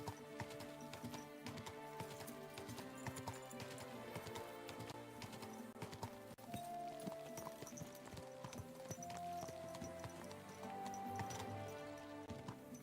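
Horse hooves clip-clopping in the video game Kingdom Come: Deliverance II, a steady rhythmic patter running throughout beneath layered game music and ambience.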